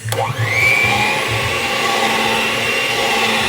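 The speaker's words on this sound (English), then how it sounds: "And you just blend slowly, not on high speed." A blender whirs loudly and steadily nearby at low speed while blending fruit for a Caribbean black cake, its motor pitch rising as it spins up and then holding a constant grinding hum.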